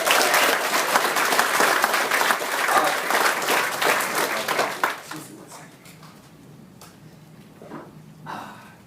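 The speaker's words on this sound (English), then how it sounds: "Can we give her a huge big round of applause?" Audience applause at a gathering in Brisbane, loud dense clapping for about five seconds that then thins out into scattered claps and quiet room noise, with a faint voice near the end.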